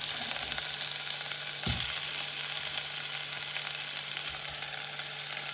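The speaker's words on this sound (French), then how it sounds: "je mets mes oignons et je les fais revenir à feu vif à moyen" Onions and potato pieces fry in sunflower oil in a saucepan over high to medium heat, giving a steady close sizzle with one brief louder knock of stirring near the start.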